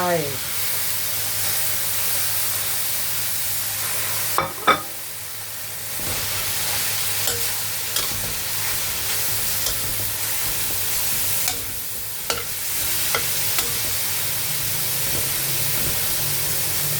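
Vegetables for Thai-style fried spaghetti are stir-fried in a pan, giving a steady sizzle with clattering stirs and a few sharp utensil knocks on the pan throughout.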